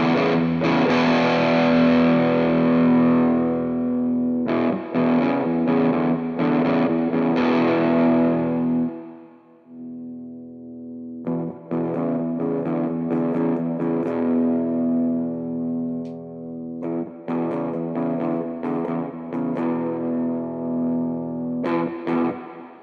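A Harley Benton SC Custom electric guitar played through its bridge pickup with mild crunch overdrive, ringing chords strummed and sustained, a pause, then more chords and choppy strums, close and alone.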